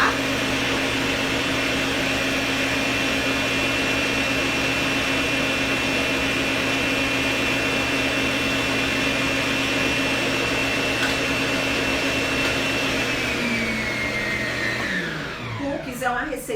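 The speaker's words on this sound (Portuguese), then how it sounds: "eu vou deixar mexendo só mais um minutinho e já vou desligar a minha batedeira" An electric stand mixer beats cookie dough with a steady, loud motor whir that holds for many seconds and then winds down abruptly as it is switched off near the end.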